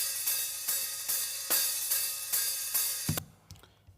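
A solo hi-hat track, low-cut and with boosted highs, taps out a steady pulse of crisp, bright strokes, then cuts off abruptly.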